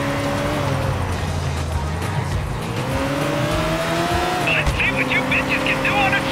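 A car driven in the video game GTA 4, its engine droning steadily with pitch rising and falling through gear changes, loud and continuous, with a brief high chirp near the end and talk over it.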